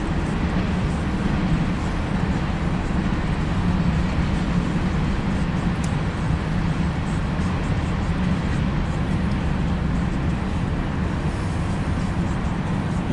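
An empty CSX grain freight train rolls past, giving a loud, continuous, close rumbling roar that holds steady throughout.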